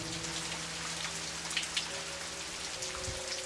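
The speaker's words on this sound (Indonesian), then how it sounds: "tiba-tiba aja gerimis mulai turun." Light drizzle patters steadily as scattered soft raindrops, faint and even, with a low hum running underneath and no speech.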